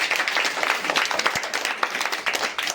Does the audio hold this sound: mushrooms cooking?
no